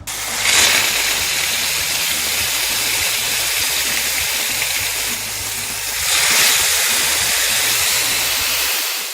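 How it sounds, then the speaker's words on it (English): Fish fillet laid skin side down in a hot pan sizzles with a loud, dense hiss, flaring sharply at the start and again midway before settling into a steady spitting fry, no voices. "make sure you put the fish skin side down first on the pan"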